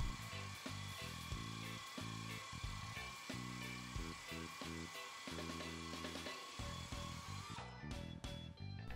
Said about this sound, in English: Using a soft wire brush on a low RPM tool, lightly buff from the right side of the prepared surface to the left side